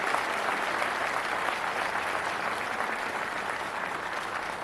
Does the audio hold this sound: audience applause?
yes